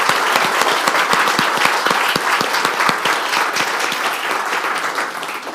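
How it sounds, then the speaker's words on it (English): An audience claps for students at a university evening event, loud sustained applause with a few distinct nearby claps standing out, slowly easing toward the end. "Let's give the students a round of applause."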